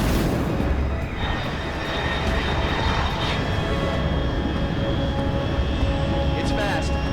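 In the video game Metal Gear Solid Delta: Snake Eater, a fast aircraft roars overhead at high altitude, a dense, steady engine rumble that holds loud and unbroken throughout.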